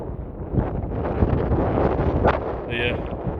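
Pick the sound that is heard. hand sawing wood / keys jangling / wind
wind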